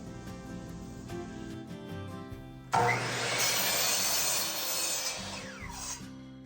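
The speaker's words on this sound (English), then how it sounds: "Now we're going to cut those 1x3s into 4-foot sections." A saw cuts 1x3 wooden boards into four-foot sections, starting with light tapping and handling, then a sudden loud, steady rasping cut that runs several seconds before dropping off.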